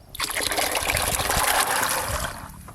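Water poured steadily over soaked kabuli chickpeas in a cooking pot, a continuous trickling gush that runs for a couple of seconds, close and fairly loud, then tapers off.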